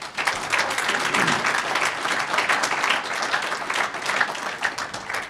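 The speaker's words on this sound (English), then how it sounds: "So let's give them a nice round of applause." An audience at a university hall of fame induction ceremony applauds the coaches. The clapping is dense and sustained, a steady wash of many hands from start to finish, with no speech over it.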